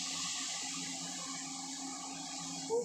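Hot water pours and rushes steadily into a pan of cooked tomatoes for a few seconds, a continuous gushing sound close by.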